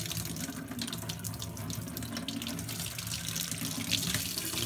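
Tap water gushes steadily through a heat plate from a Viessmann Vitodens 100-W 26kW combi boiler into a sink, a continuous close splashing rush without talk.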